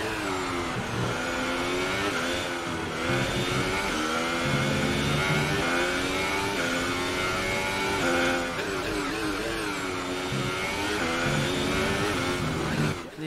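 A Sauber F1 car in the F1 2018 game on a qualifying lap, its engine screaming continuously at high revs, rising and dropping in pitch through gear changes and a chicane, loud and close throughout.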